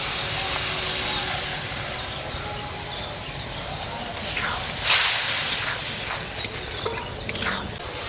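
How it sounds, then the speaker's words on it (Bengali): Water poured into a hot pan of spiced small river fish with tomato, ginger and garlic hisses sharply, a broad steamy sizzle that swells midway and then settles, close and fairly loud. "এর অল্প করেই জল দেবো।"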